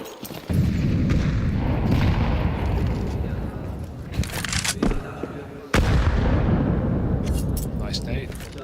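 Grenade blasts in the Counter-Strike 2 game at a major tournament, two loud booming bursts a few seconds apart with rumbling decay, under continuous commentator speech.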